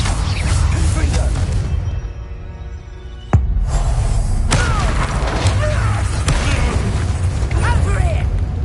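A Confringo fire-blast spell in Hogwarts Legacy goes off as a sharp crack and booming burst amid dense, loud battle noise, with mechanical whooshes and pops continuing around it and a voice speaking over the action.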